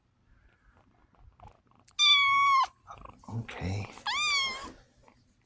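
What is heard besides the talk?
cat meowing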